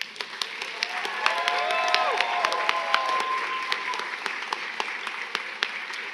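A large commencement audience applauds steadily, with whoops and cheers rising over the dense clapping throughout, the ovation holding strong and close for the whole stretch.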